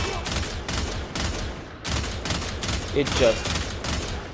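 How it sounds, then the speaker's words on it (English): Stradavar Prime rifle in a video game firing in rapid bursts, about eight evenly spaced volleys of sharp, loud shots in quick succession, with a brief voice over them. "but the burst fire in this thing."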